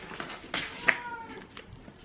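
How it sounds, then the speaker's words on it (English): A house cat that wants to go outside gives a few soft, plaintive meows, including one brief sharper cry, faint and close in a quiet room. "The cats really want to go outside"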